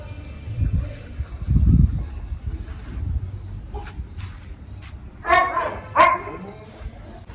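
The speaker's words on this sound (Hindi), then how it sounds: "जब ये डॉग्स भौंकते हैं तो ये भी भौंकता है।" Several dogs at a home barking, with a few low woofs early on and then two louder sharp bursts of barking near the end, over background noise and talk.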